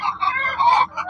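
Free-range country chickens on a poultry and sheep farm give a few short, nasal clucks and squawks in quick succession, close and fairly loud with no talking.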